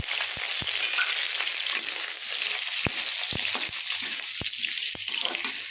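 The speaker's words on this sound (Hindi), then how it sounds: "उसमें हम आलू को भी फ्राई कर लेंगे।" Potatoes fry in hot mustard oil, making a loud, constant close-up sizzle, with occasional sharp taps of a utensil against the pan.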